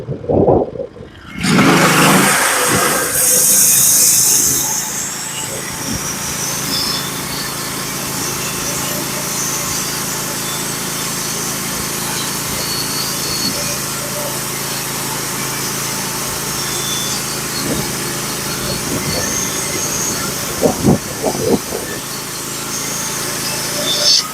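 A Norwood HD36v2 portable sawmill making a skim cut through a walnut log: a small engine whines and revs up at the start, then holds a steady high drone as the blade runs through the wood, with occasional knocks and clatter.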